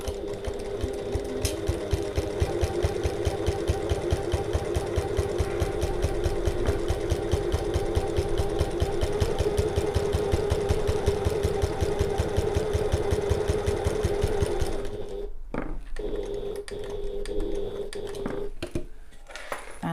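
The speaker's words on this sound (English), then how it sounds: "I've changed my stitch length down so that I can get into the corner, lift my presser foot and pivot." Domestic sewing machine stitching fabric while making a zip bridge for a bag, a fast, even mechanical clatter running steadily up close, then stopping with a few short bursts and handling noises near the end.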